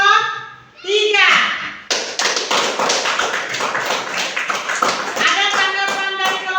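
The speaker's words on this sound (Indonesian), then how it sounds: "tepuk tangan dulu untuk kelompok 3" Classroom of children clapping for a presenting group, a burst of close, loud, rapid hand claps after a teacher's voice, with children's voices heard before and after the applause.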